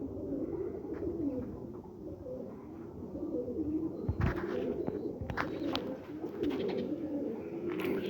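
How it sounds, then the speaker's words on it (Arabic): Young pigeons on a rooftop coo softly in a low, repeating murmur, with a few brief clatters and flutters nearby; no talking. "هاي الطيور كلها شباب"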